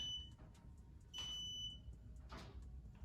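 Electronic beeping from a 72V Razor MX650 electric dirt bike build, with a high steady tone sounding in short bursts near the start and around the middle over a low background rumble.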